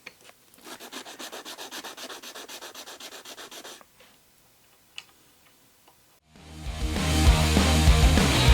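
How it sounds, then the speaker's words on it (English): Sandpaper rubs back and forth across a small inlay on a guitar kit fretboard, making a rapid rhythmic scratching for several seconds, then a few light taps before a louder burst of broadband noise takes over at the end. "I'm just going to use a piece of sandpaper."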